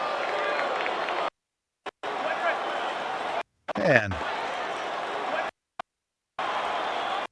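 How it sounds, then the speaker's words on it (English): Stadium crowd ambience at a soccer match: a dense, roaring babble of many voices, broken by abrupt cuts into silence with a short thump between segments. "Find a nice spot with some good old crowd sounds."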